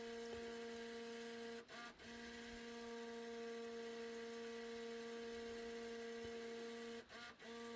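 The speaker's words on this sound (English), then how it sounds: "Sounds like that CD player is searching for." A steady electronic whirring hum with a constant tone runs through the cab of a 2008 Dodge Ram 3500 6.7 diesel pickup, like a car CD player searching, broken by two brief dropouts partway through.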